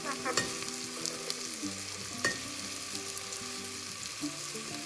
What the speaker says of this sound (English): Cook the onions for 3 minutes or until it becomes transparent